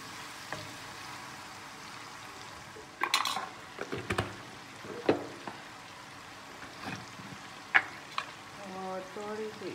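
Chopped tomatoes with salt fry in a pan. A faint, quiet sizzle runs underneath while a utensil scrapes and knocks against the metal in irregular bursts, and a few soft sounds of movement come through between the strokes.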